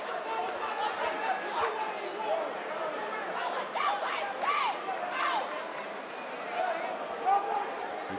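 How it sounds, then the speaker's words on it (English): A high school basketball crowd at a playoff game between Brockton and Mansfield, a steady hubbub of chatter and cheering filling the gym, with voices rising and falling throughout. "You can tell the crowd's really into it"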